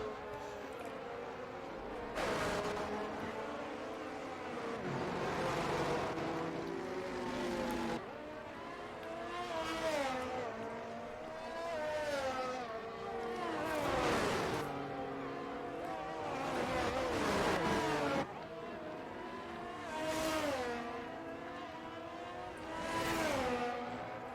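A Ferrari Formula 1 car in the F1 2022 video game pushes through a flying lap at the Chinese circuit, its engine repeatedly rising in pitch and dropping at each braking point, with commentary talking over it.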